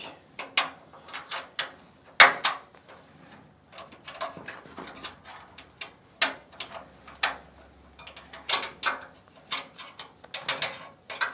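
Adjustment knobs on a Logosol chain sawmill frame are loosened by hand, giving a string of irregular ratcheting clicks and clunks with one sharp knock, close and fairly quiet.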